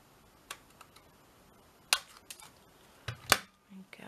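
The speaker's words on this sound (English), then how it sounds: "Let's cut a little notch out." Scissors cut a notch in paper: a few short, crisp snips and clicks with quiet gaps between them, close and fairly faint against a still room.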